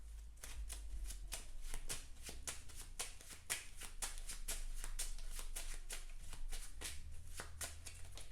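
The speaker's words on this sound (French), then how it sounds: "Voilà, je remets ça, comme ça. Je remélange." A deck of playing cards for the Marvel Champions card game is riffled and shuffled continuously at close range, giving a dense, steady run of rapid flicking snaps that lasts throughout without speech.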